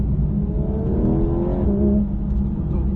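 Car engine accelerating hard on a race track at Lohéac, a steady loud roar with rising harmonic tones as revs climb, continuous and close throughout.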